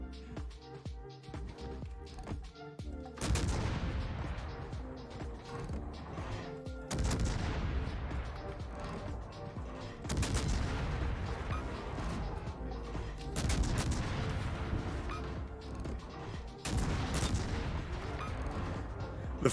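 USS Hull, a Tier X premium American destroyer in World of Warships, fires its guns in heavy booming salvos every few seconds, each crack followed by a rolling decay, with low game background noise between volleys.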